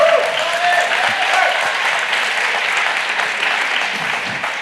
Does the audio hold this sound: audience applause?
yes